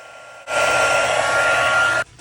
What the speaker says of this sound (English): Let me heat set this.